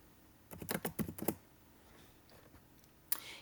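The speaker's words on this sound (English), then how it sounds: "That's what you're typing in here." Quick bursts of typing on a computer keyboard, a run of close, crisp clicks in the first second followed by a few scattered taps and one sharp click near the end, with no talking.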